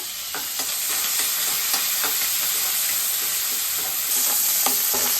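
Onion, tomato and fresh curry leaves fry in a pan with a loud, continuous sizzle, punctuated by regular scraping strokes of a spatula stirring the mix, close up and without talk.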